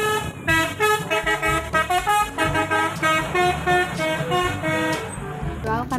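A medical truck sounds a long series of loud, musical horn toots in a rapid rhythmic pattern, close by and continuing throughout.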